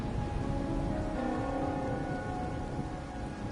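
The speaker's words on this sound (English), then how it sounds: "Here we stand, united by the rain, drawn to the same painting." Steady rain falls in the video game Wuthering Waves, a continuous even hiss of drops on surfaces with no voices over it.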